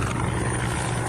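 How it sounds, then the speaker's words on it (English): A rescue helicopter thuds steadily overhead above a sinking 8-metre catamaran at sea, a loud continuous rotor drone with no voices. "There's a helicopter."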